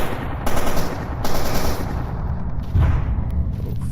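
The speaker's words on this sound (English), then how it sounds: "So you can hear gunshots." Gunfire in the video game STALKER Anomaly, several bursts of automatic shots with heavy low thuds, coming in uneven clusters at mid distance with no talk over them.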